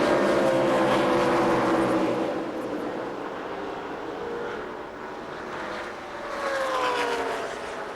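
ARCA stock cars take the green at Kentucky Speedway in 2004, engines roaring past in a loud pack with rising and falling pitch, fading into a distant drone before another car sweeps by.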